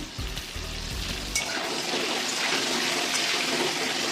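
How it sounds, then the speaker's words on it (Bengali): Eggs fry in a pan with a bright, continuous sizzle, preceded at the start by a short low rumbling thud before the hiss settles in steadily. "ডিম কটা লাল লাল করে ভেজে নিই"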